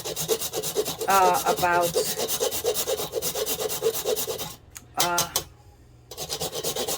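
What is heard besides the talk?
grating whole nutmeg on a grater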